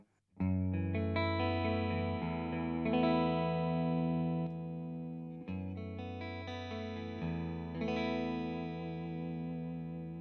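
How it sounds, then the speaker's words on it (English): A Suhr Classic S electric guitar with its neck humbucker split to single coil rings out sustained chords, changing a few times over about ten seconds, with a bright, thin, slightly twangy tone. "splits the neck humbucker from the full humbucker to a single coil. It sounds like this."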